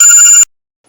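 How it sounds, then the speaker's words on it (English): A bright electronic telephone ring sounds loud and close, then cuts off abruptly about halfway through, leaving near silence. "Someone is calling me."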